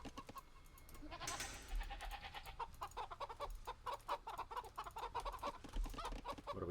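Chickens cluck in the real-time strategy game Age of Empires II, a steady run of short, close clucks repeating over a continuous game background, with no speech.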